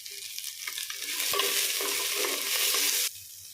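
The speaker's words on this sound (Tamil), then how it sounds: "இதில் 2 கைப்பிடி சின்ன வெங்காயம் சேர்த்துக்கிட்டேங்க." Small shallots with a pinch of rock salt sautéing in hot oil, stirred steadily: a bright, dense sizzle that swells after the first second, holds loud and close, then cuts off near the end. No voices.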